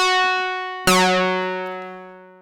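A Behringer Pro 1 synthesizer plays a sync lead, a buzzy sustained note followed by a second bright attack whose harmonics sweep downward and decay over about two seconds.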